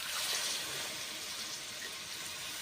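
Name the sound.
water poured into potato-pointed gourd curry while cooking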